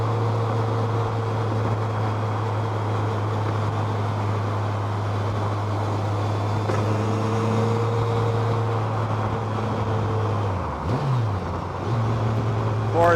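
A 2007 Campagna T Rex trike with a 200 hp Kawasaki 1350cc engine holds fifth gear at around 3,500 RPM, giving a loud, steady, continuous drone with a brief dip in pitch near the end.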